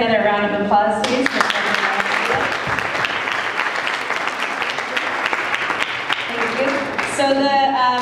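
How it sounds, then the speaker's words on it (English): An audience at a Los Angeles community meeting on gentrification breaks into loud, sustained applause lasting several seconds, with a person speaking into a microphone before and after the clapping. "We can get another round of applause"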